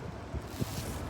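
Gusty wind buffets the microphone in a brief rushing roar, with a couple of low thumps.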